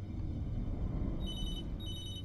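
A telephone rings in the video game Beyond Two Souls, thin electronic trills entering partway through over a low rumbling background, faint and without voices.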